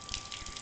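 Water pushed by a pump through a Coleman Hot Water On Demand heater, a steady, moderately faint gushing and trickling flow with a constant pump hum beneath it.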